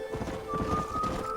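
Horse hooves clip-clopping at a steady trot in Red Dead Redemption, a moderately close, even rhythm of soft thuds over a low ambient bed.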